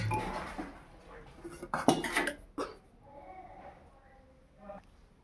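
Mutton is dropped into a pressure cooker pot, giving soft clinks and knocks of metal cookware, a brief clatter and a cough-like sound with a faint voice nearby.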